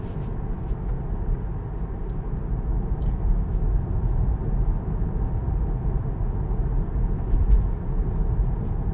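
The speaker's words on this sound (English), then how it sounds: "I really do find this to be quite a comfortable and quiet car to drive." Inside a Tesla Model 3 Long Range cruising at about 30 mph, a steady low road and tyre rumble fills the cabin, broken only by a few faint clicks and ticks.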